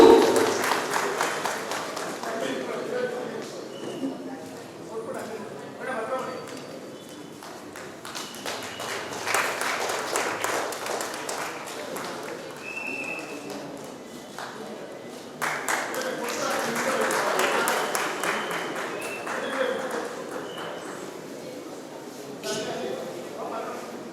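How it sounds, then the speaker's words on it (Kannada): An audience at a movie audio launch claps in several swelling waves that rise and fade over about twenty-four seconds, with dense, crackling hand claps heard from mid-distance. "ನಾವೆಲ್ಲರೂ ಆಶಿಸ್ತಾ ಒಂದು ನಲ್ಮೆಯ ಚಪ್ಪಾಳೆ ಮುಖೇನ ಸರ್ಗೆ ಅಭಿನಂದನೆಯನ್ನು ಸೂಚಿಸೋಣ"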